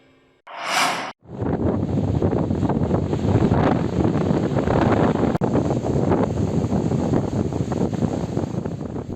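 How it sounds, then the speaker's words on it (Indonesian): Loud, steady roaring wind buffeting the microphone during bad weather on the southern sea off Jembrana, Bali, with a broad rushing wash of high waves churning, continuous throughout after a brief gust at the start. "Angin kencang dan gelombang tinggi terjadi di Laut Selatan Kabupaten Jembrana."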